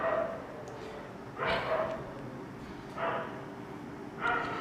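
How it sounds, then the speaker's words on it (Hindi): A dog barks outdoors in three separate bursts about every one and a half seconds, moderately distant and carrying over a low background hum. "कुत्ता भौंके जा रहा है"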